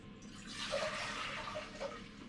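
Spring water pours into a saucepan for brewing ale: a short, faint, steady trickle and splash, heard alone.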